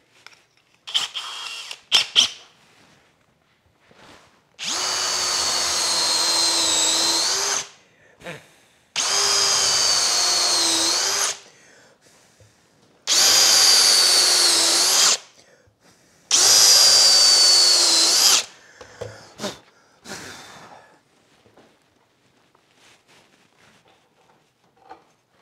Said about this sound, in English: Now you want to countersink those deep enough that they don't become a risk to the jointer.